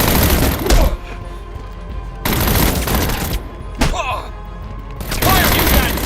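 Bursts of video-game gunfire from Batman Arkham Origins, loud and close, in three or four dense volleys separated by short gaps, with brief shouted voices between them.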